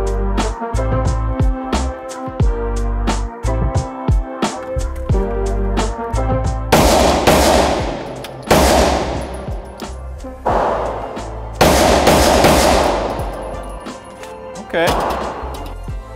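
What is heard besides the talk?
Maxim machine gun firing at an indoor range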